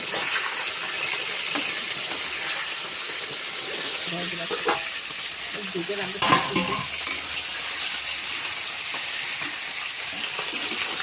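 Fish sizzles steadily in a hot pan of oil, with a few scraping stirs and clatter partway through as the fried pieces are taken out.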